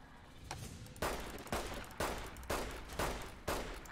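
A police pistol fires in Fallout New Vegas: seven or eight sharp, loud shots at a steady half-second rhythm, each with a short decaying tail, no talking.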